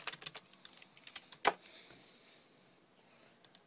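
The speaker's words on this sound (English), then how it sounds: "We're going to type in Sam." Short bursts of key presses on a computer keyboard as a name is typed, a quick cluster of light clicks, a louder clack, then a pause and a couple more taps, close and quiet.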